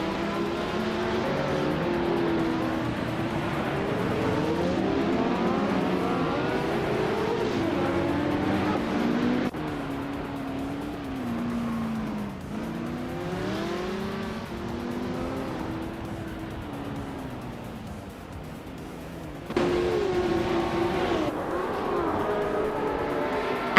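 Race cars, among them a Porsche 917 LH, roar through a racing video game, engines revving and shifting pitch continuously for over twenty seconds, with passing cars and gear changes, no speech.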